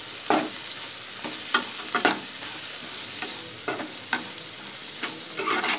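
Bitter gourd slices seasoned with turmeric frying in a pan, a steady close sizzle broken by several sharp scrapes and clacks of a spoon stirring against the pan.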